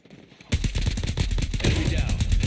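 Video game gunfire bursts in a close rapid automatic stream, starting abruptly after a short quiet moment and hammering on loudly to the end.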